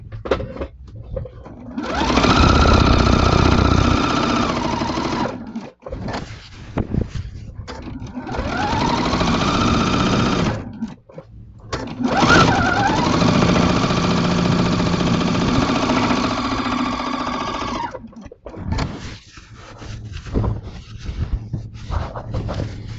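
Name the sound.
sewing machine quilting with a walking foot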